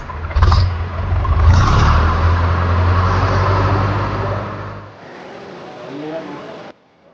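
A car engine revs hard and pulls away close by after an accident, holding a loud, steady roar for several seconds before it drops off sharply, with voices mixed in.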